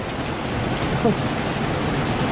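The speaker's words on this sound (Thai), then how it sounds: "ดูฟ้าแล้วฟ้าร้องครับเห็นไหมเนาะ" Heavy rain pours steadily through a summer hailstorm, a dense even wash of noise with a faint low rumble of thunder, while someone speaks briefly over it.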